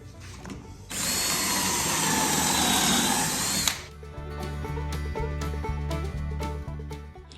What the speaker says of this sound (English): I won't make you watch me drill all these holes